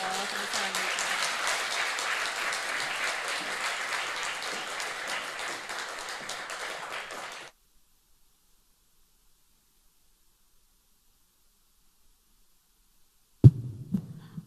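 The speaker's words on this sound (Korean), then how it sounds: "박수로 이렇게 환영해 드리기 원합니다. 박수 쳐주세요." Dense applause from a church congregation welcoming a speaker fills the first half, then cuts to silence before a brief thump and rustle near the end.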